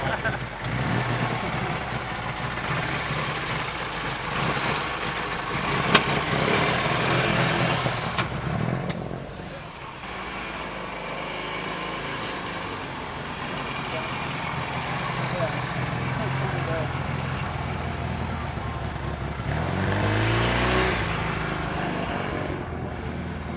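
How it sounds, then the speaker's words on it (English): Honda N600 with its small two-cylinder engine running, a continuous buzzy idle with slight rev swells heard close by under people talking. "That thing's only running on 2 cylinders."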